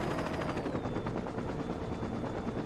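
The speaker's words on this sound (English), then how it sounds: "I wouldn't be able to sit out in a goddamn helicopter like this" A helicopter in the video game Saints Row 2 gives off a loud, continuous rotor drone with a steady throbbing chop, close and filling the whole scene, with no voices.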